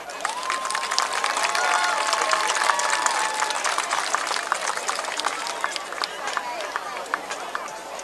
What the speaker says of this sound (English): Please give a round of applause for your Mount Vernon Mighty Tiger Band.